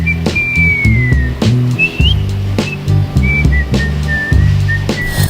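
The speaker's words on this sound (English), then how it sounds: "that whistle became one of the most emotionally loaded moments in the history of recorded music" A melodic human whistle carries the tune of a song over a steady band accompaniment of bass and drums, clear and prominent.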